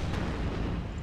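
A BMP-3 armoured vehicle fires its guns in the video game WARNO, heard as a dense, continuous rumble of rapid booming shots, loud and close with no voices.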